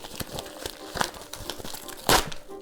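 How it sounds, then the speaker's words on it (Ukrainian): A crinkly plastic parcel mailer bag is unpacked up close, with irregular rustles and crinkles and a louder tearing crackle near the end. "а зараз розпаковуємо ось цей бандерольний пакет"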